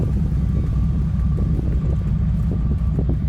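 Steady wind rumbles and buffets against the microphone throughout, a low continuous roar with no voices.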